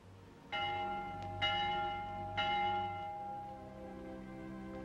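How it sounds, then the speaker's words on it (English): Vespers church bell ringing, three resonant strikes spaced about a second apart, each ringing on with a long sustained hum, fairly distant and alone. "The Vespers bell."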